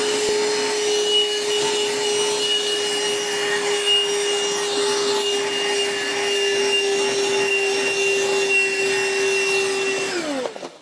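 A Bissell Pet Hair Eraser vacuum runs steadily while cleaning a cat scratching post, a loud constant motor whine with a strong hum that holds for about ten seconds before shutting off.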